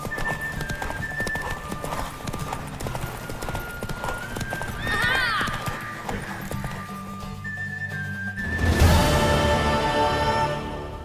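Horse hooves clip-clop at a gallop in The Witcher 3, the mare giving a loud whinny near the end, with game music and ambient sound beneath.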